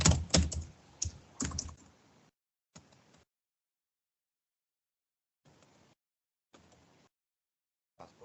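Someone types on a computer keyboard while filling in an online Thailand visa form: a quick burst of close key clatter, then a few short sparse bursts separated by silence.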